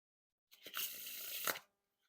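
One close, continuous papery swish lasting about a second, like cards sliding and spreading into a fan, ending in a soft snap.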